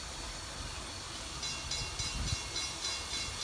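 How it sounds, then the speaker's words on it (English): Strasburg train #475 draws to a stop at a rural crossing, its faint, distant rumble and hiss broken by a few soft clanks. "This is the 2 p.m. train stopping at Carpenter's Crossing for the Echo."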